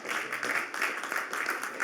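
Conference audience at Unreal Fest applauding, a dense, even patter of many hands clapping in gentle waves, moderately loud and uninterrupted, with no voices on top.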